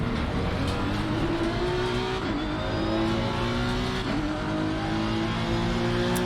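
A BMW GT3 race car engine in Assetto Corsa Competizione at Donington, roaring loud and continuous with rising and falling revs through a hairpin, a faint tire squeal mixed in, and no voices.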